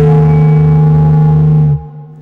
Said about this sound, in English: I think it sounds like mic feedback.